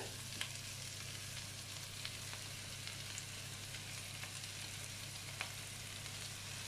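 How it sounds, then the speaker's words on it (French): Zucchini tagliatelle sautéing in a pan, a steady soft sizzle and fry running throughout with a few faint clicks of stirring, no talking. "J'y mets les tagliatelles de courgettes. On va les faire revenir un petit peu."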